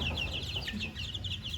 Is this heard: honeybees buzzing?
no